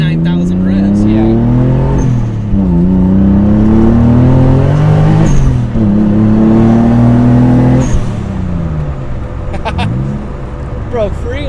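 Mazda RX7 fitted with a VG30DETT twin turbo V6, loud in-car engine revving through repeated upshifts, each pull rising in pitch before dropping, with the rear tires breaking traction; occupants talk over the roar.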